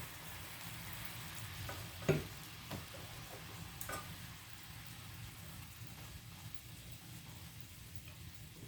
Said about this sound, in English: Whisk the gravy in there.